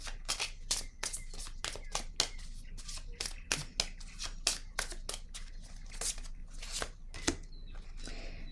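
Oracle cards being shuffled by hand, a quick run of crisp rhythmic riffling snaps repeating steadily at close range and moderate volume, with no talk over them.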